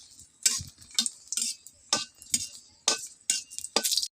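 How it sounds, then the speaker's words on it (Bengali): Three dried red chillies are fried and turned over in hot refined white oil in a pan, making a quick series of sharp sizzling, scraping bursts roughly every half second, close and fairly quiet, with no talking. "3টে শুকনো লঙ্কা আমি ভালো মতন এপিট ওপিট করে দুপাশ ভাজে নেব"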